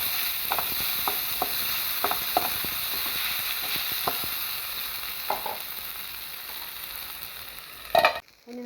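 Chopped potatoes with salt stirred in a pan, a soft, steady sizzle with scattered spatula taps and scrapes, then a brief louder clatter near the end as a lid goes on.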